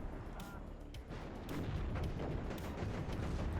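A T-80BVK command tank fires during a WARNO real-time strategy battle while infantry rifles engage, with scattered sharp cannon reports and distant gunfire popping over a low rumbling battlefield bed.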